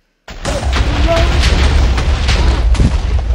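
A creeper gun in modded Minecraft fires and explodes, a loud, abrupt boom that bursts in and rumbles on as a sustained, noisy blast for several seconds.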